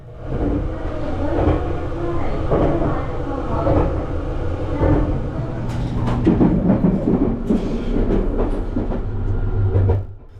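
A Japanese ultra-luxury train runs along the tracks, its steady low rumble carrying rhythmic clacks and rattles from the carriage. The sound stays close and continuous, with some voices faintly mixed in.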